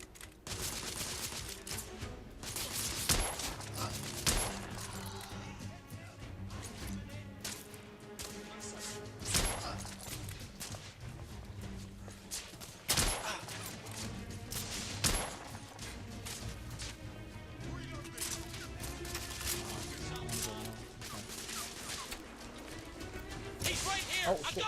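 Gunshots crack intermittently in the third-person shooter The Order: 1886, sharp reports spaced several seconds apart with occasional quicker bursts, set under ongoing conversation between players.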